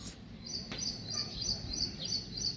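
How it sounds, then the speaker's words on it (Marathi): Birds chirp outdoors in the early morning, a series of short high calls repeating at a steady pace, fairly faint over low background rumble. "मॉर्निंगचं वातावरण, पक्ष्यांचा आवाज, गारवा हवेत"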